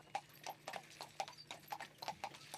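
Hooves of a horse pulling a cart on a road between Vallon and Avenches clop in a steady, even rhythm, several distinct hoofbeats per second, close and clear with no voices over them.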